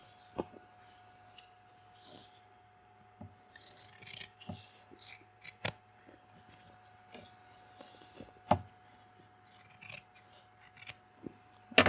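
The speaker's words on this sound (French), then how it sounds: "Donc, je coupe à 2 cm sur les repères que je me suis fait." Scissors snip through denim fabric to cut a hem, giving close, crisp clicks and rasping cuts in short irregular bursts over a quiet room.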